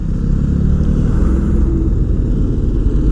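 Yamaha MT-15 motorcycle cruising at around 105 to 110 km/h on a highway, a loud, steady engine drone blended with heavy wind rumble throughout, no talk heard.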